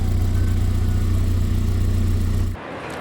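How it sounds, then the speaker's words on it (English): A close, steady idle from an MG F engine with an exhaust leak, a low throbbing rumble with puffing noise that drops off abruptly near the end. "The exhaust is blowing a bit from somewhere."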